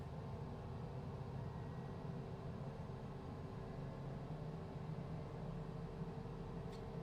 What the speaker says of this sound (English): Those jet engines do always sound amazing.